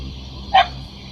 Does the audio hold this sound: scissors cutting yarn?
no